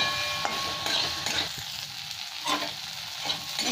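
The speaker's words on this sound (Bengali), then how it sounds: "বেগুনটা ভাজা হয়ে যাবে।" Brinjal pieces fry in hot oil with turmeric and salt, a steady close sizzle broken by a few soft stirring scrapes, with no voices.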